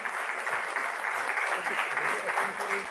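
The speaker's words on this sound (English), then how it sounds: "A huge round of applause, everyone." Applause from an audience at a university celebration during a souvenir presentation to a vice chancellor, a steady wash of clapping for about three seconds with a faint voice underneath.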